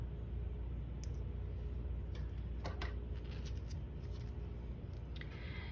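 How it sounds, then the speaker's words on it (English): Scissors snip the tip of a red icing bag in a quiet room, giving a few short, sharp cuts over a steady low background hum with no one talking. "next we're going to take our red and we're going to snip the tip of this bag"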